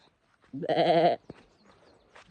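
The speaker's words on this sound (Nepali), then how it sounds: "खसीहरू रहेछ" A single goat bleats loudly for about half a second, a wavering nasal cry, followed by faint rustling and quiet, on the Pangsang pass at 3850 m.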